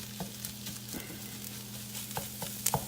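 Chorizo fries in a pan for a breakfast burrito, a steady sizzle with a low hum underneath, broken by occasional scraping taps as it is stirred and chopped with a utensil, no talking.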